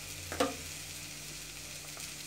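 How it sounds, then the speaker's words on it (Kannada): Raw banana slices fry in hot oil with a soft, steady sizzle, one brief louder crackle early on, then a quiet even bubbling to the end. "ಈ ರೀತಿ ನಾವು ಎಣ್ಣೆಯಲ್ಲಿ ಸ್ವಲ್ಪ ಫ್ರೈ ಮಾಡ್ಕೊಳ್ಬೇಕು"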